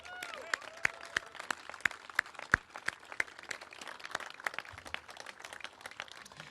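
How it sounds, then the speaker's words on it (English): Scattered, light hand claps from a small audience at an event at The Wharf in Washington, uneven and sparse, with a few sharper claps standing out over a quiet room. "that is worth an applause"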